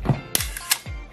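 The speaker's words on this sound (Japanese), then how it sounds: "これはスローシャッターなんですけど、まれにミラーアップしますね" The slow shutter release of an old film camera gives a soft mechanical clack, a sharp metallic snap, a second snap and a dull closing thunk, all close and crisp in under a second.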